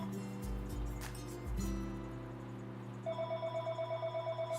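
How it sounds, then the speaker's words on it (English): A house telephone rings indoors with steady, evenly spaced electronic trills, fairly close and moderately loud, alongside a low background hum; no one speaks. "stupid house phone."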